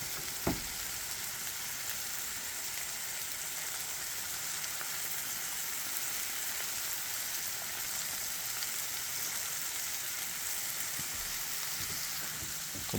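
Steaks sizzling on a cooking surface outdoors, heard as a steady, fairly quiet frying hiss that holds evenly throughout with a single brief tap near the start and no talking.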